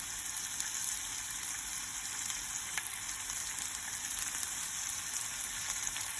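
A spoonful of concentrated tomato puree sizzles quietly in a pan while stuffed butternut squash is prepared, a faint, even hiss with a couple of tiny ticks and no speech.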